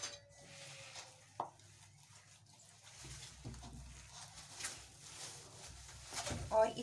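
Coriander, mint, green chilli and ginger-garlic paste stirred together in a bowl, giving soft scraping and occasional clinks of a utensil, with one sharper knock early on and faint background sounds throughout.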